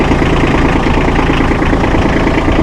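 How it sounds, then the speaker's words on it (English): A Massey Ferguson hydrostatic-transmission tractor engine runs close and loud in a steady, continuous throb with a low rumble and no clear change in pitch. "And you can hear that auto throttle kick in."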